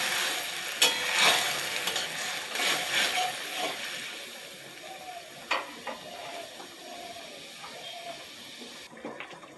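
Lapa greens are stirred while frying in a pan. Soft scraping strokes run over a faint, steady sizzle, quiet and close, with a few light clinks.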